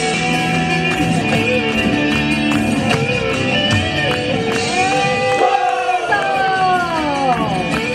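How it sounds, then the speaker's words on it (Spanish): Carnival crowd in Palpalá cheering and shouting steadily through a dense, loud wash of noise, with music and voices mixed in throughout. "¡Aplausos para Tingus Pachas!"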